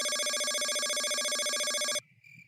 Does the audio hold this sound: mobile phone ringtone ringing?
yes